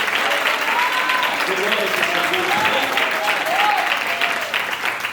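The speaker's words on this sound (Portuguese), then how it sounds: "louve ao Senhor com a melhor salva de palmas" A congregation at an evening church service claps in loud, continuous applause, with voices calling and cheering over the dense, steady sound of many hands.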